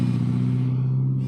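Toyota Yaris VVT-i petrol engine idling, a close, steady low hum with a smooth rhythmic drone that quietens slightly near the end.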